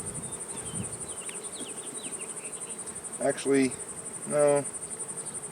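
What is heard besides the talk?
honeybees buzzing during hive inspection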